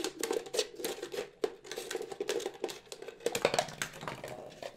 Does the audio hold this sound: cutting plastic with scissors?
yes